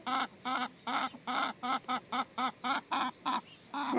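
A hen near a garden coop gives a steady run of loud, evenly spaced clucks, about three per second, close to the listener and alone without talk.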